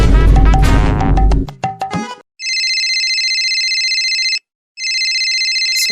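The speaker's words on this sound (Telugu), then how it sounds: "చచ్చిపోయిన మనిషికి ఫోన్ చేస్తున్నారు ఎవరు?" A telephone rings in a comedy sketch, with steady electronic ring bursts after a loud stretch of sound; one long ring, a short gap, then another.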